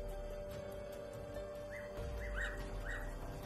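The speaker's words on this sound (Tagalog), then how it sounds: "Kanina pa ako sinusundan ng ibon na to" A bird calls outdoors with a few short, rising chirps in quick succession over steady background noise, fairly faint and somewhat distant.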